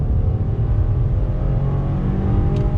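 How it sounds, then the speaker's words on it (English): A 2019 Subaru WRX Series Grey accelerates hard in second gear, its turbocharged engine giving a steady, loud droning roar heard from inside the cabin. "Here we go, second gear, on throttle."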